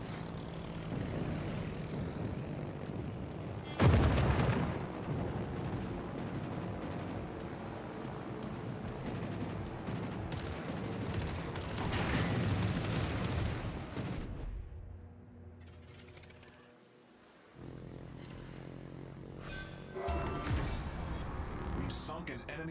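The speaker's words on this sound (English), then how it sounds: "Concentrate fire on the enemy warship." Warships firing their guns in World of Warships, with booming blasts, a sharp loud shot near the start and another heavy volley later, under a constant engine and aircraft drone with brief quieter gaps.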